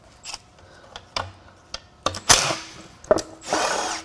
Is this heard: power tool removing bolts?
yes